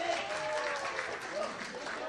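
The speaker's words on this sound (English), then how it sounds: "A big round of applause for Mr. Guru Shankar, please." A crowd at a Bollywood book-collection launch event applauds in a brief, fairly faint spell of clapping that stays steady throughout.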